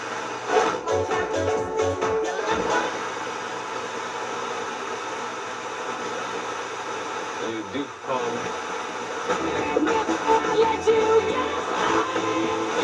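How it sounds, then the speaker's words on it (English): A Rotel RX-1603 receiver tunes across weak radio stations, giving a continuous hiss of static with shifting whooshes and brief bursts of faint signal, steady and close. "Seems like the tuner's working pretty good."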